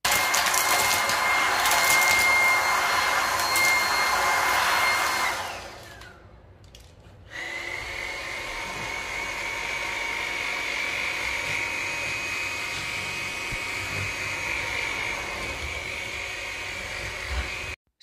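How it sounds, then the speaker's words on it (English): Dreame T20 cordless stick vacuum running steadily at close range with a whining motor tone, cutting out briefly partway through before restarting and running on alone. "the Dreame T20 did a good job of picking up a variety of debris"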